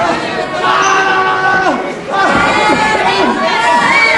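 A ringside wrestling crowd in Solihull shouts and calls out during a British professional bout, many excited voices yelling over one another, loud and close, with brief dips between bursts.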